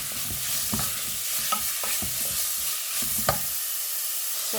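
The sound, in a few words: stirring beetroot in a frying pan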